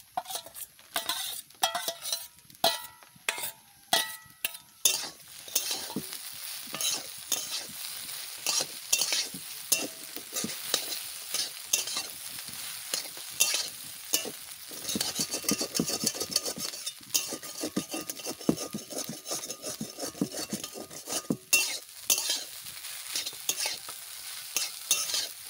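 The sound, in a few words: stirring and frying vegetables for carrot upma in a pan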